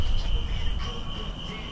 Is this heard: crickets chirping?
yes